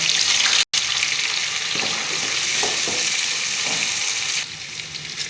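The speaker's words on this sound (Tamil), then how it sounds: "எண்ணெய் சூடாகி கடுகு பொரியுது, வெங்காயம்," Mustard seeds splutter and pop in hot oil with onion and curry leaves, a loud dense crackling sizzle with scattered sharp pops, dipping for an instant early and easing slightly at the end.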